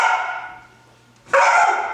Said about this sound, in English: dog's excited to get out